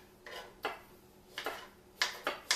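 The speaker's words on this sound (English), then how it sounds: "Steak knives cutting my pears." Steak knife slicing pears on a board: five or six short, crisp taps and scrapes spaced irregularly, quiet and close with no talk.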